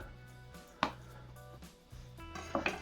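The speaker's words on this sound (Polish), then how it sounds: "Ja jadę zawsze po błonach, czyli taką małą szyneczkę sobie kroję" A knife slicing raw ham along the membranes while breaking down a ham for smoking: a few sharp cutting strokes and light knocks on a board over a low steady hum, close and fairly quiet.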